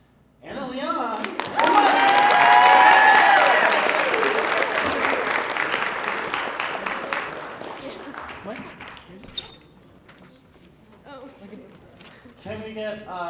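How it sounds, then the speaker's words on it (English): A school audience at a Poetry Out Loud competition bursts into loud applause and cheering, peaking early then fading over several seconds, with a voice speaking before and after. "Can we get a big round of applause for everybody?"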